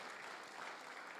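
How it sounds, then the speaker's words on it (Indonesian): A church congregation claps together for the pastor's wife during a Sunday afternoon worship service, a steady, even patter of applause with no voices. "Kita beri tepuk tangan buat Ibu Gembala kita."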